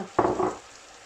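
Red and green bell peppers hit a hot pan with chicken and give a brief, sharp sizzle that fades within half a second.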